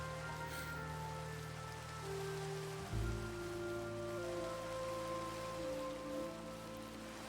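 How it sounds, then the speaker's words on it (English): Steady rain falls in a dark oak forest in Minecraft, a continuous even patter with a low droning ambience beneath, shifting slightly about three seconds in. "especially in this rain."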